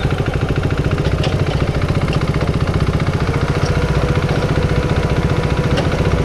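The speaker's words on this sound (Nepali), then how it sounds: "बाइक त आइरहेको छ" A motorcycle engine on a rough mountain road toward Upper Mustang, where a dozer is blocking the track: a loud, close, steady rhythmic chug that holds an even level throughout.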